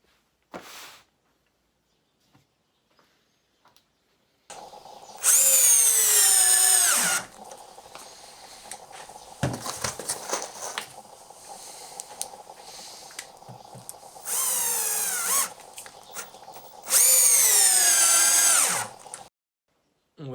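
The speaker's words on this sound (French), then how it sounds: "on va venir visser des vis en bois là, c'est des Fisher" A Festool CXS 10.8V cordless drill drives 4x40 wood screws, with three loud, whining bursts of the motor as each screw goes in. Quieter handling and rustling noises fill the gaps between bursts.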